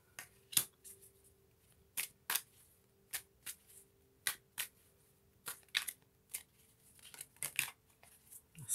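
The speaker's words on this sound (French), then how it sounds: "Nous allons prendre 3 cartes supplémentaires, s'il vous plaît, pour le partenaire des Sagittaires" Tarot cards being shuffled and drawn: a series of crisp, close riffling snaps and flicks at irregular intervals against a quiet room, with no speech.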